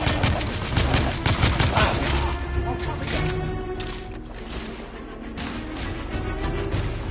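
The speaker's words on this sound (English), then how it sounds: "I'm under heavy fire!" Heavy gunfire in the Victorian-era shooter game The Order: 1886: a sustained barrage of overlapping shots and rattling bursts at a steady din that eases slightly later on, with a voice shouting over it.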